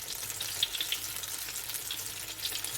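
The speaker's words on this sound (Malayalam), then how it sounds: "അത് ഫ്രൈ ആവുന്ന പോലെ തന്നെ നമുക്ക് വെയിറ്റ് ചെയ്യാം" Banana fritters, pazhampori, frying in oil over a medium flame, giving a steady soft sizzle with a few faint crackles and pops, close by and with no talking.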